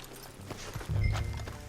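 A few dull hoof clops from a horse in a video game sound over a low rumbling background.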